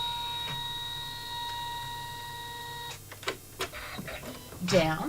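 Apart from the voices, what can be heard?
embroidery machine stitching a crosshatch basting design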